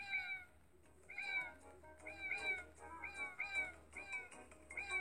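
A cat in a video game meows repeatedly in short, insistent, rising calls about once a second, fairly clear over a low background hum.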